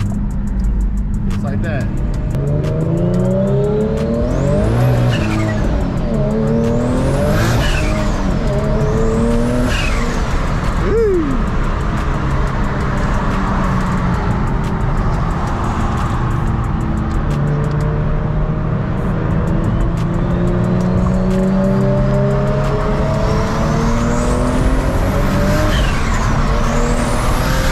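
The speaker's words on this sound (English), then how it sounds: "I'm hopping on the freeway now, so I'll go ahead and open the valve up." A 600 hp Infiniti G37 IPL with its exhaust valve open accelerates hard on a freeway, engine rising loud and close through several gear pulls with sweeping revs, while someone talks briefly over the noise.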